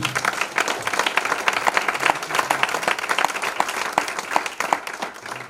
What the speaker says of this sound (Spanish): Denle un aplauso al Señor, amén.